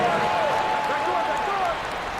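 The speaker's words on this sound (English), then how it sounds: "Here stands another big cheer for your Knicks City Kid." A simulated arena crowd cheers in the NBA 2K23 basketball game during a Knicks versus Pistons match, a steady broad roar with a thin whistling tone over it and a commentator speaking on top.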